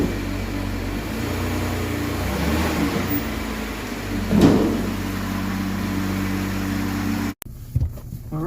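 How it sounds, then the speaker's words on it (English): Steady engine hum and road rumble inside a Dodge Journey on a test drive after rear brake work, with a brief swell of revving midway before the sound cuts abruptly near the end. "Let's go for a test drive."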